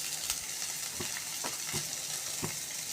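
Corn chivda with chopped coriander stirred in a hot pan, a continuous sizzle with a few distinct scraping strokes of the spoon, close up and without any voices.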